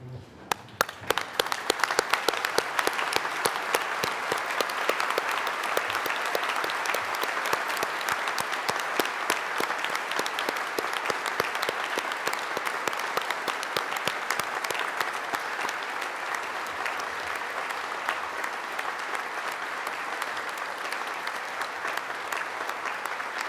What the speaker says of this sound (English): join with me in a final round of applause for today's graduates